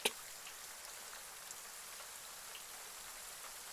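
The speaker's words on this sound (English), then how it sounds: "So it's raining harder now. I was going to say, the rain's got louder." Steady heavy rain hisses continuously, a dense even patter close by with no voices.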